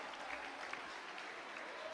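Applause from an audience greeting a performing group at an anniversary celebration, a steady wash of clapping filling the whole moment with a single sharper clap standing out, with no talk over it.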